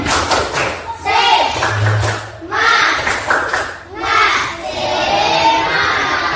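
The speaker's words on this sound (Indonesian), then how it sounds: "Tepuk semangat." Classroom of schoolchildren doing a rhythmic spirit clap in bursts with shouting and cheering, loud and close, during a teaching practice lesson in Indonesia.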